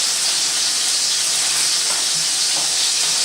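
Meatballs browning in a pan for pasta with tomato cream sauce, a loud, steady close sizzle and hiss that runs unbroken, with no talk.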